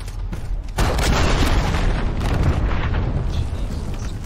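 A cruise missile strike in Call of Duty: Modern Warfare multiplayer lands as a sudden heavy blast, a deep roaring boom that swells and rumbles on for several seconds, loud and close.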